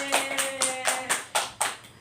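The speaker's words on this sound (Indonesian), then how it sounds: "Beri tepuk tangan untuk Ibnu Khaldun dan Sibaweh" A classroom gives a short round of clapping, about seven distinct, evenly spaced claps over two seconds, close and fairly soft.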